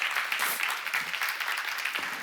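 A church congregation at a seminar claps together in sustained applause, a dense, even patter of many hands heard close, with no talking.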